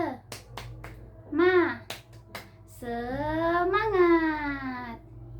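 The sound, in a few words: rhythmic spirit clapping cheer (tepuk semangat)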